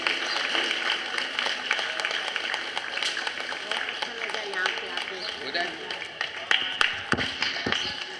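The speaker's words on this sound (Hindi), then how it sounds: "तालियां बजाते हैं इनके लिए भी।" Hands clap in applause at a yoga session for weight loss, a sustained patter of many claps with sharper individual slaps standing out, fairly close and continuing for several seconds.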